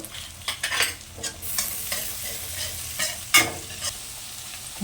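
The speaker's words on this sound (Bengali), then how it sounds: "এখন এটা নেড়ে চেড়ে নেব।" Chillies and crushed garlic stir-fried in a pan give a steady, close sizzle of frying. Repeated scrapes and knocks of a spatula stirring the pan come through clearly, with no voices.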